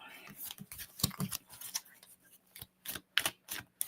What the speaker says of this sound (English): Just realized I'm shuffling right in front of my microphone.